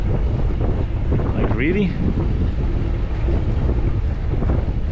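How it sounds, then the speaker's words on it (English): Strong wind buffets the microphone steadily throughout while sailing near the lee side of a rock on a Nordic voyage from Stavoren, a constant roaring rush with a brief voice in the middle. "The wind is blowing in from this angle, quite a bit of wind"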